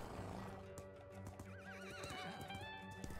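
Horse neighing with a rising, wavering whinny over a steady clip-clop of hooves in the Western video game Hopalong: The Badlands, close and clear, with no talking.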